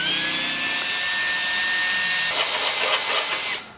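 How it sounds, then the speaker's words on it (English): A 3/4 inch paddle bit bores through material on a four-wheeler street-legal kit install, a steady high whining drill drone that runs loud and continuous, then roughens near the end and cuts off abruptly. "we just use a 3/4 paddle bit, and we'll switch sides over here"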